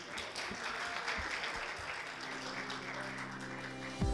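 Audience at a contest finale applauds as a presenter is welcomed, a muffled, moderate wash of clapping with a faint tonal hum rising underneath near the end.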